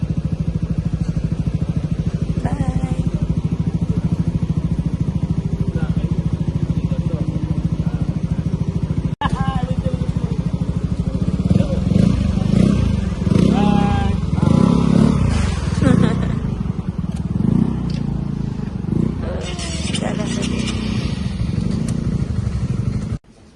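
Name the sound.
Yamaha NVX V2 motor scooter engine running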